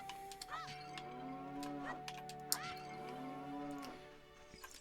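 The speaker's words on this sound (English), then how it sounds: "Hope you like the sound of mooing." Cows mooing in the video game The Legend of Zelda: Ocarina of Time, randomizer mode: several long, drawn-out moos in succession over a steady background music drone, fairly loud and close.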